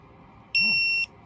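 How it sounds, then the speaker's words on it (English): A Snap-on ATECH 3/8-inch digital torque wrench gives a single steady electronic beep of about half a second as it reaches the set torque, clear and piercing over a quiet background. "One thing that you did hear as well is a beep once it gets to torque."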